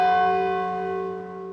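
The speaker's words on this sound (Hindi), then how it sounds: "घंटी सुनी तुमने?" A single bell strikes once, its bright metallic tone ringing out clearly and then slowly decaying with a long sustained hum.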